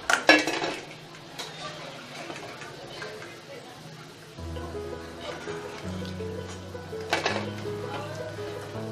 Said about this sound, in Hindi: कलछी को थोड़ा सा किनारे से साइड करेंगे जिससे कि एक्स्ट्रा तेल इसका